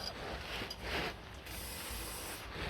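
An aerosol can sprays onto rear exhaust parts of a Rover 600, giving short hissing bursts followed by a longer steady hiss, close by in a quiet garage.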